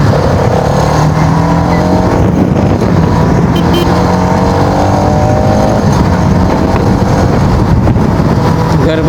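A motor vehicle pulls away and accelerates along an open, clear road, its engine a loud, steady drone with rising tones that carries through the whole stretch, mixed with wind rush.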